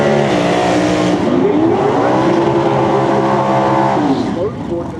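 Race car engines at the 50th March Meet drag race, a loud, steady multi-engine roar with shifting rising and falling tones, close and continuous throughout, easing slightly near the end.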